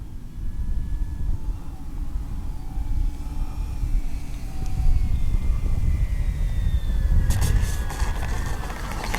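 An E-flite Beechcraft D-18 RC model airplane lands on a cross runway with no flaps, its electric motors whining faintly over steady wind and ground noise, with a brief burst of clatter near the end.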